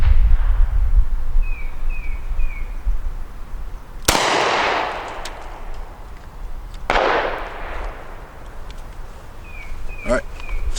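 Two sharp, loud .38 Special revolver shots fired at a 10-yard target, a few seconds apart, each with a short echoing decay, set against outdoor background noise and faint insect chirps.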